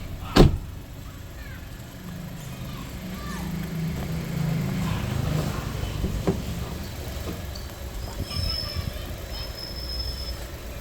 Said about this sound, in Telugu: ఒక పవర్ విండో అనేది ఒక దించేద్దాం.